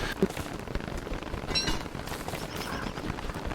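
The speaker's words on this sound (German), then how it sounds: "Es regnet. Regen ist nicht geil." Steady rain patters continuously in Don't Starve Together, an even hiss with small dripping taps throughout, fairly close and alone.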